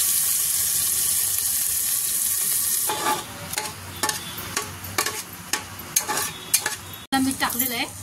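Washed rice being sautéed in a pot with shahjira for chicken aalni bhat. A loud, even hiss opens the passage, then gives way to a run of close scraping and clattering stirs over a softer sizzle.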